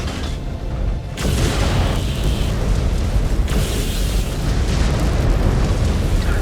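Missile impact blast from a MechWarrior battle, a sudden heavy boom around the one-second mark rolling into sustained loud rumbling and secondary blasts that keep the scene thick with low roar.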